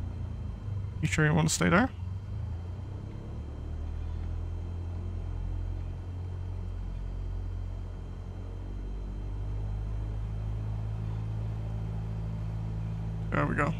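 Cessna 172 Skyhawk engine in MSFS 2020 holding a steady droning hum that swells gradually as throttle comes up, with a brief spoken line near the start.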